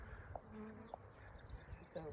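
Honey bees buzz faintly and steadily around a queen cage set between hive frames, a soft continuous hum with a few louder passes.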